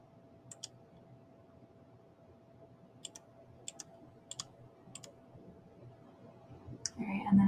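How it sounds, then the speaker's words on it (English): Calculator buttons pressed while entering a function, a handful of light, separate clicks spaced irregularly over a quiet background, close to the microphone. "I'm going to type in my function."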